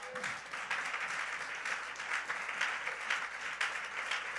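A church congregation bursts into sustained applause to acclaim the king of kings, a dense, steady wash of clapping from many hands that fills the room without a break.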